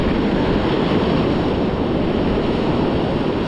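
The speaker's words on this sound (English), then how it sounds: "listen to the waves" Ocean waves wash steadily onto a San Diego beach, a continuous broadband roar of surf with a breezy, wind-buffeted texture, loud and close, with no voices present.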